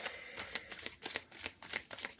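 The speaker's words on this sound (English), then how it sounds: "I'm just going to shuffle this a couple of times because these cards are huge." Large tarot cards being shuffled by hand, a run of crisp, close riffling bursts repeating in quick rhythm with no talk.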